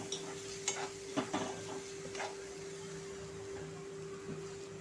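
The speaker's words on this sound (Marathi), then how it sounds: "ह्याला कंटिन्युअस मिक्स करायचं आहे" A yogurt and green chili mixture is stirred in a pan, with a few quick utensil scrapes and taps early on over a soft, low simmering hiss.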